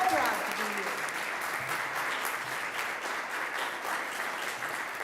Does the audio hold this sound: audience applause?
yes